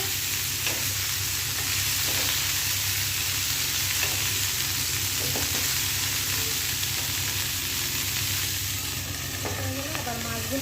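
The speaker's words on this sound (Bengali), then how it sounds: "এদিকে এই যে ফুলকপিগুলো ভেজে দিব" Cauliflower pieces fry in a pan with a constant loud sizzle and hiss, while a utensil stirs and scrapes at intervals, all close up and without speech.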